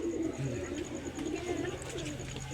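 Several pigeons coo softly and repeatedly nearby, low rolling calls over a faint steady hum.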